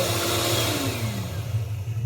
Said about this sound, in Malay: Mixer dia sekejap bagi sebati.